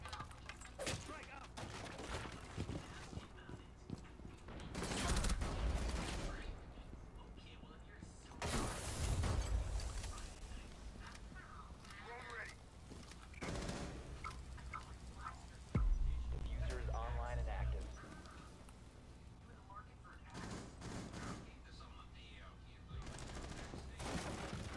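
Shotgun fire in Rainbow Six Siege gameplay: several loud, heavy blasts spaced a few seconds apart, mixed with game effects while a player talks.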